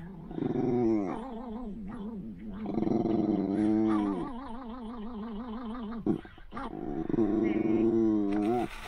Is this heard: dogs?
yes